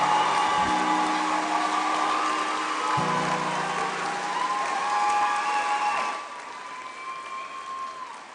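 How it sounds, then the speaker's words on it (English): An audience at a 2017 high school graduation ceremony applauds with a continuous patter of many clapping hands, fairly steady before easing off toward the end, with faint sustained tones running underneath. "Let's give Shaylin another round of applause"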